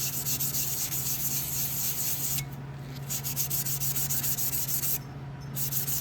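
A Scotch-Brite pad rubs back and forth over a metal fresh air vent door during restoration, a close, continuous abrasive scrubbing with two brief pauses.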